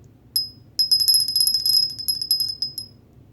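A bright, small bell rings in a quick, rattling series of strikes for about two and a half seconds, close and clear with nothing else around it.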